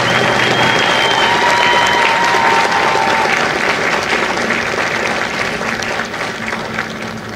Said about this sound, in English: please join me in a round of applause for the company staff of Company G